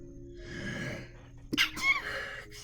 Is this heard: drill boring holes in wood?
no